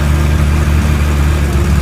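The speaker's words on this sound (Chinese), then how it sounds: "让我们来听听涡轮隼的咆哮" A turbocharged, modified Suzuki Hayabusa motorcycle engine runs with a loud, deep continuous rumble, steady over the short stretch without revving up or fading.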